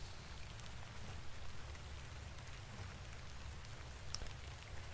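Steady rain falls in the Victorian-era horror point-and-click game Incantamentum, a constant soft hiss of drops with a low rumble underneath and no talk.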